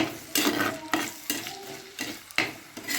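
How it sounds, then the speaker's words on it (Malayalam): A utensil stirs onions in a hot pan, with steady sizzling and several scraping strokes against the metal. "അപ്പോൾ നമുക്ക് മിക്സ് ചെയ്ത് കൊടുക്കാം."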